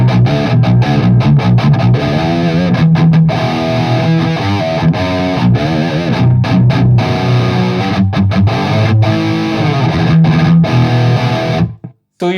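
Hughes & Kettner Triamp mk3 amplifier with a Jackson guitar playing a high-gain metal tone with presence turned up, loud palm-muted distorted chugging riffs with bright edges, ending in an abrupt cutoff.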